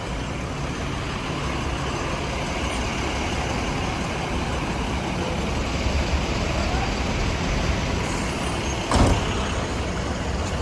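Steady loud roar of bus and truck engines fills the Dang–Kathmandu bus park, with a brief hiss like an air brake near the end and no voices above the din.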